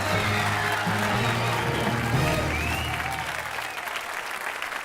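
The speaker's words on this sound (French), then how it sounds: "je vous demande de l'applaudir très fort" Loud, steady studio audience applause greeting the host's entrance on a French television game show, dense continuous clapping with music underneath that fades partway through.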